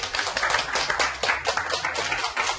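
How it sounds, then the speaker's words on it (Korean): A Korean TV talk-show studio audience claps in a bright, busy burst, with many hands slapping fast and evenly at a close, fairly loud level for the whole stretch. "딴 건 없어요. 박수!"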